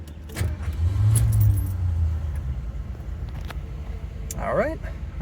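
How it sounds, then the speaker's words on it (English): A warm car engine is cranked over and started, a low rumbling whir under jangling keys and a voice, close inside the vehicle. "All right, let's go ahead and crank it over."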